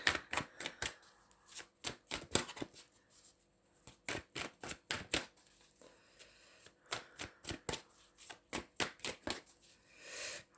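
Tarot cards being shuffled by hand, a long series of sharp riffling slaps and snaps in uneven bursts, close and moderately quiet with no talking.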